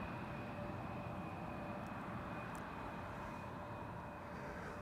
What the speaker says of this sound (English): That's a Dreamliner from Lufty.